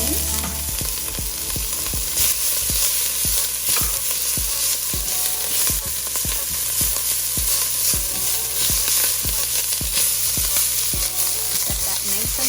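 Aromatics and mustard greens fry in a hot cast iron pan for dan dan noodles, giving a loud continuous sizzle cut by regular, rhythmic stirring strokes, with no talking.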